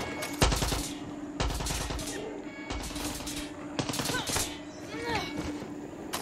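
Gunshots in Far Cry 6 on PS5, repeated bursts of sharp rapid fire separated by short pauses, fairly close and moderately loud, with other game noises between the volleys.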